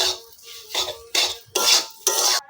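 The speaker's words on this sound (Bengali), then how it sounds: "সবগুলো আমি ভালো করে একটু নেড়ে নিব" A spatula scrapes through a spiced raw banana mixture with garam masala, salt and turmeric in a pan: about five distinct, rhythmic stirring strokes, close and fairly loud, each a gritty scraping rasp.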